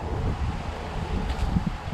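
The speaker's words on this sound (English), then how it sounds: "it's also very windy" Steady wind buffeting a microphone at a fishing spot near pylons, a low rumbling roar that persists throughout with slight gusts, no voices.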